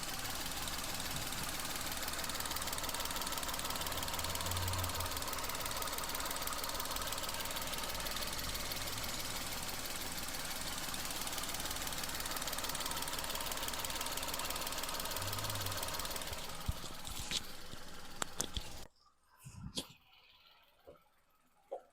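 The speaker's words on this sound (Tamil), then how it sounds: "இன்ஜின் நாய்ஸ் இப்போ மைக்கு நான் பக்கத்தில் வைக்கிறேன்," A Maruti Suzuki Alto 800 VXI engine idles steadily up close with a low, even rumble and faint knocking, then clicks and drops away to near quiet at the end.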